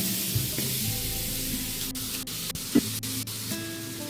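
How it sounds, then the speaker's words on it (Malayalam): A kilo of finely chopped chicken hits hot masala for chicken madhooth, giving a loud, steady sizzle with a few soft stirring knocks, close and alone. "ഇനി ഇതിലേക്ക് ചെറുതായി കട്ട് ചെയ്ത ഒരു കിലോ ചിക്കൻ ഇതിലേക്ക് ചേർത്ത് കൊടുക്കാം"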